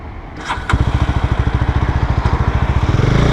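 A GPX Demon GR250R 250cc motorcycle ridden in fourth gear, its engine throbbing in a fast, even pulse that swells loudly after a brief rev, close and continuous.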